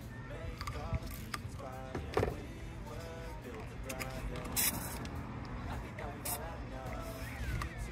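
Simple Green all-purpose cleaner, mixed 50-50 with water, sprays onto a Ford Maverick engine in short repeated hissing bursts over a steady low hum, with a voice talking throughout.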